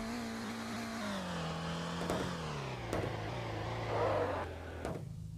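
A lowered Volkswagen Jetta engine revs in a multiplayer racing video game, a steady droning tone rising and falling with several gear-shift jumps and a brief burst of louder revving near the end, continuous and up front.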